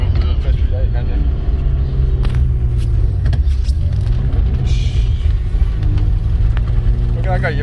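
A turbocharged BMW E36 with an M50B25 engine, about 400 bhp at the wheels, rumbles loudly from inside the cabin as it turns around, with people talking over the engine throughout.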